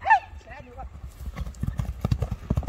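Racing horse from a team being led for sale, a neigh at the start and then a run of close, rhythmic hoof clops on hard ground.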